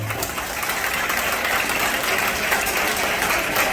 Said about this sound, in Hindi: तालियां कमजोर बजाते हैं आप लोग